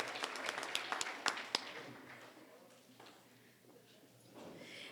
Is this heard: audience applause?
yes